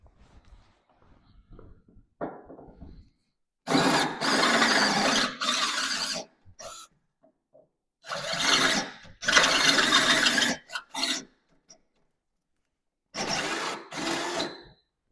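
A power drill with a 13/32 bit whirs in several bursts of a few seconds each, boring a hole for a classic car door repair, with quiet pauses between runs and no voices.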